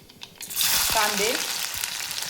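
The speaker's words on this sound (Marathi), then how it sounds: "कांदे थोडेसे जास्तच टाकायचे आहेत. कांदा छान असा भाजून घ्यायचा आहे." Two medium onions, dropped into a wok of hot oil already holding mustard seeds and cumin, burst into a loud, steady sizzle close by, with a brief vocal sound mixed in.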